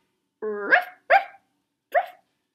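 A dog barks three times in quick succession, close and clear, with the first bark drawn out slightly longer and a short gap before the last one, and no other sound around it.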